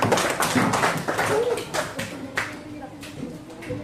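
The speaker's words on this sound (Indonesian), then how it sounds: "Beri tepuk tangan buat kita semua." Scattered hand clapping in a classroom rises and fades while a teacher keeps talking over it.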